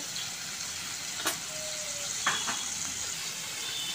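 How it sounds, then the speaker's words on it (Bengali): Boneless meat with cumin, coriander, turmeric and chilli powders frying in a pan, a steady broad sizzle with a couple of brief metallic scrapes and clinks from stirring. "এবার আমি কিছুক্ষণ কষিয়ে নেব।"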